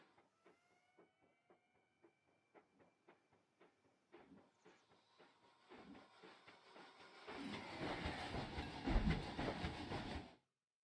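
A roller coaster train in the Planet Coaster video game clacks along the track in a steady rhythm of rapid clicks, then builds into a loud rushing roar before abruptly stopping.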